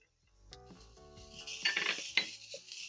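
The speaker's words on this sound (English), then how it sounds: "Stir in the onion" Utensil clinks and scraping while onion is stirred into seared, spiced minced meat in a pan for an Italian minced meat dish, a few bright metallic taps over a soft sizzle, moderately quiet with no talking.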